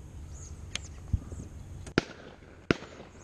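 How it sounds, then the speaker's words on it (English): A shotgun fires in the distance near a muddy fishing spot, giving a few sharp, separate cracks spaced under a second apart, each short and punchy against quiet outdoor background. "That's a shotgun."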